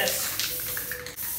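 Aerosol can spraying magenta paint for spray paint art, heard as short, close hissing bursts with brief pauses between them.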